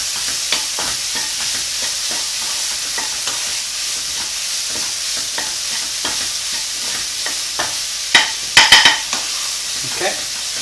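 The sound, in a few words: piemosa filling cooking and sizzling in a pan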